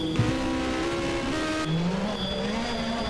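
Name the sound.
race car at hill climb crossing the line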